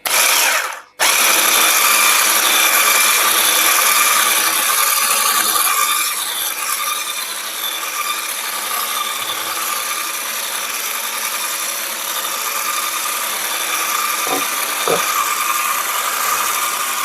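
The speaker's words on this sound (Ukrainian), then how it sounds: "Виливаємо у сирну масу і збиваємо міксером на невеличкій швидкості." Steady whirring drone of an electric hand mixer beating a cream cheese cheesecake mixture at low speed, loud and close, running continuously after a brief stop near the start, with a couple of faint knocks late on.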